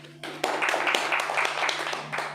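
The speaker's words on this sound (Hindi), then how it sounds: "तालियों के साथ जो है वो वेलकम करता हूँ" Congregation applause at a church service welcoming the preacher, a dense steady clapping that swells after a quiet start and carries on at a fairly even level for a couple of seconds.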